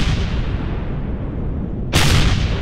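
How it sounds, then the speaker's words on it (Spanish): Rocket launchers firing in the space survival game Empyrion Galactic Survival, a steady loud roaring rumble with a sudden bright whooshing burst near the end. "los cohetes lanzan"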